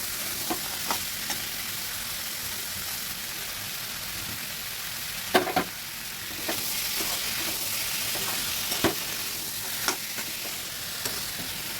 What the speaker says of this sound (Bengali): এবার মশলার সাথে ছোলাটাকে ভালো করে একটু কষিয়ে নেব